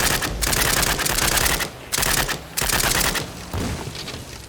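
Gunfire in the zombie video game Zed Zone: dense, loud bursts of rapid automatic fire in several long volleys separated by short pauses, with no talking over them.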